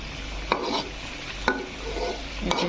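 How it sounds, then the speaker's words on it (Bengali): Pieces of hilsa fish being mixed into spices in a pan, giving a soft sizzle with three short scraping stirs about a second apart, close and quiet, with no talking. "এটা পিট করে দিচ্ছি মশলার ভেতরে মাছটাকে।"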